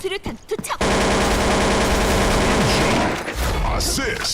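Sustained automatic gunfire in Counter-Strike 2 during a ranked match, a loud continuous burst lasting a few seconds with brief shots before and after, as players talk over it.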